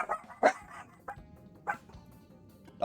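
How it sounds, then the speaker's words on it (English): Dogs bark in a few separate bursts at moderate distance, with quiet gaps between the barks and no talk over them. "Dogs still bark bark."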